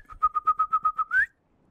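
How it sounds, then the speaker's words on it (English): Someone whistles a quick run of eight short, evenly spaced notes, then finishes on one longer note that slides upward, close and clear with no talking. "Is my mic even gonna pick up that whistling?"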